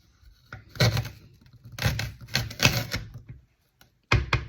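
Stalks of raw rhubarb are cut with a large kitchen knife, giving four or five crisp, close crunching chops in quick bursts with short pauses between them.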